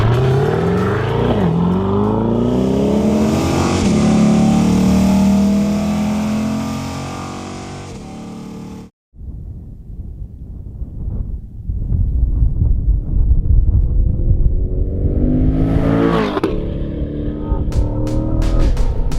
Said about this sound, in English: So this is the new mid-engined C8 Corvette.